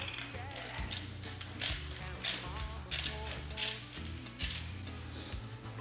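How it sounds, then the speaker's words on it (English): Salt ground in a hand grinder while making ahi poke, a steady mechanical grinding and crunching rattle running continuously and close up, with no talk over it. "Grind the salt."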